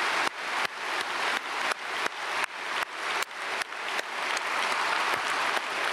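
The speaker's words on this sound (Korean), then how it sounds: "우리 박수로 축복하겠습니다." A church congregation at a Sunday service applauds the choir, a dense, steady round of clapping from many hands that continues throughout at moderate loudness, with no talk over it.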